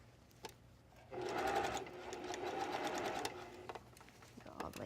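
A sewing machine stitches bias tape trim around the armhole of a little black dress, one steady whirring run of about two seconds set apart by brief clicks, with a person talking nearby.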